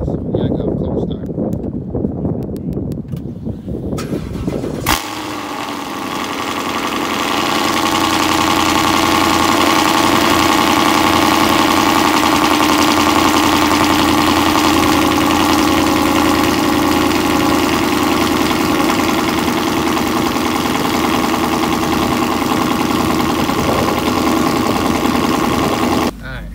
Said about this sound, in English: Yeah, I got a cold start.